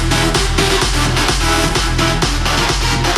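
Dense, loud full-mix music track with a steady kick-driven beat, mastered with a high-shelf style boost around 12 kHz for added sparkle and sizzle, playing continuously without talk.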